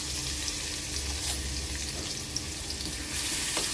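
Cumin, asafoetida and garlic cloves sizzle in hot oil in a pan for a Maharashtrian vegetarian thali, a steady loud hissing fry with faint crackles throughout and no voice.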